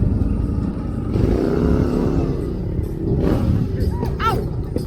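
A big motorcycle at a gathering of sports bikes on International Female Ride Day revs its engine in loud rising surges over a rumbling idle, with other traffic noise and voices around it.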